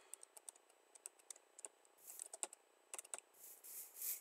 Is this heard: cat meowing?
no